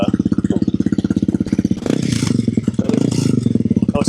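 A Honda CRF300L motorcycle with a Yoshimura full exhaust thumps at idle with a steady pulsing beat, then revs up into a louder, rougher roar with a license plate rattling metallically from the vibration.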